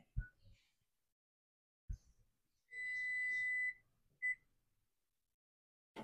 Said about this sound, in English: My timer's about to go off.